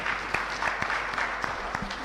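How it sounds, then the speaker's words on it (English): A room of people at a parliamentary session clap together in brisk, dense applause, with individual claps ringing out clearly and steadily at close range for a couple of seconds. "Another round of applause for Ambassador Macharia"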